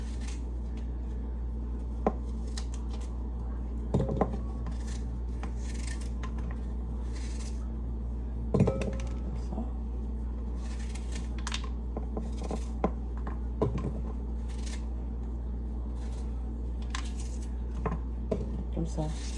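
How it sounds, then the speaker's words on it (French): A knife cuts a peeled apple into small quarter pieces, giving sparse, soft taps and clicks against a board or dish at irregular intervals. A low steady hum runs underneath. "Je vais le couper en petits morceaux de quartier."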